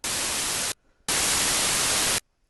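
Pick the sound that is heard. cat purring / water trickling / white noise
white noise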